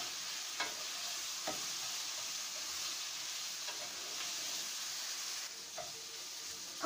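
Chicken, pasta and vegetables stir-fry in sweet chili sauce, a steady close sizzle and hiss with occasional scraping stirs, no talking.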